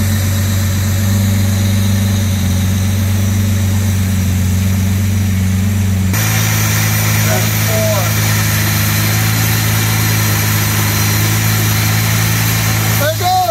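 An original 1962 Jaguar E-Type 3.8 engine idles smoothly and steadily, a loud, close, continuous low rumble that shifts slightly in tone partway through, with brief voices over it.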